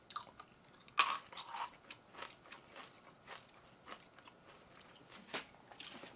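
Crunchy freeze-dried sour Skittles candy being chewed up close, with a sharp bite near the start followed by steady irregular crunching and softer chewing that fades slightly toward the end.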